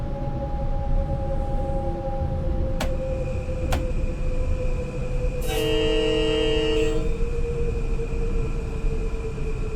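A Metro-North train on the New York to Stamford line in the simulator game Train Sim World 6 hums and rumbles steadily, with two short horn blips and then a longer, loud two-second horn blast, no voices.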